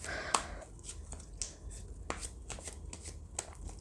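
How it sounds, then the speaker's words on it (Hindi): Lenormand cards shuffled by hand, close up: a sharp riffle at the start, then a steady run of soft papery slaps and brushes with no talking. "फिर हम लेनॉर्मन कार्ड्स देखते हैं"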